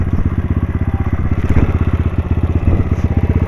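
A Cross X250 SE motorcycle idles while being parked, its single engine thumping in a rapid, even, close-up rhythm that stays loud and steady throughout.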